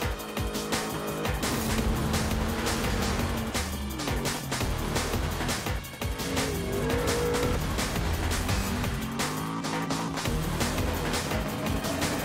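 A car engine pulls hard in fifth gear at around 95 to 100 km/h during a Lebanese driving challenge, a loud, continuous drone with shifting tones and steady road and wind noise, no voices.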